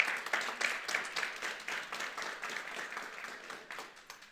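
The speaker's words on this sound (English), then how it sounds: "Give them a round of applause." Audience applause at a conference on demographic shift, dense steady clapping from a crowd that holds throughout and tapers slightly toward the end.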